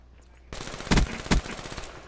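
Rapid automatic gunfire from a gun in a video game, a dense rattling burst with two heavier booming shots standing out, loud and close, starting abruptly after a quiet moment.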